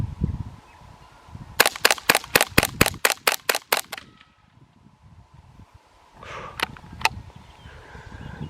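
A semi-automatic .22 LR rifle firing subsonic ammunition outdoors: a rapid string of about ten sharp, evenly spaced cracks, then a pause and two or three more shots, with faint rustling between them.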